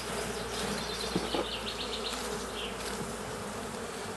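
Honey bees buzz densely around a hive frame during a spring swarm-preparation inspection in Norfolk, a continuous close, loud drone filling the whole stretch with small shifts in pitch and no talking.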